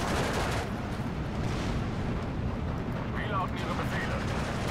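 Gunfire and artillery in the World War II real-time strategy game Steel Division 2, a dense, continuous rumble of shots and blasts that stays loud throughout, with someone talking over it.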